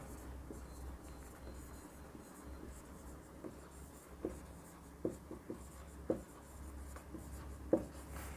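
Pen writing a free body diagram on paper during a control systems lesson, faint scratchy strokes and light taps at uneven intervals under a low steady background hum.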